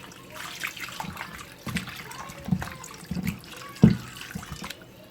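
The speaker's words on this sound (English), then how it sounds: "So now I'm going to add some water to this." Water poured into a pot of turkey necks for stewing, with soft splashing and trickling in irregular bursts close by, no talk.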